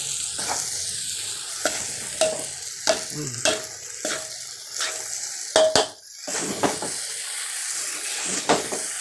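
Fried rice sizzles and crackles in a hot oiled pan while a utensil scrapes and stirs in repeated strokes, with occasional clinks against the metal.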